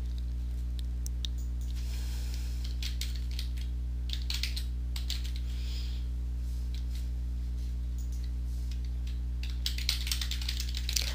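Irregular bursts of keyboard typing, soft clicks clustered in runs with pauses, over a constant low electrical hum.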